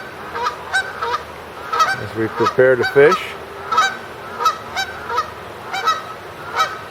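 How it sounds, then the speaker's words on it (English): Geese honk repeatedly in loud, regular calls nearby, while a voice speaks briefly partway through. "Sharing the scene with a mating pair of geese"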